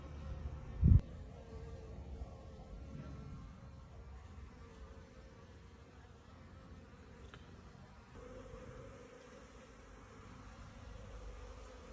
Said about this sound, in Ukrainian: І бджолки вже починають от потрошку вилітати.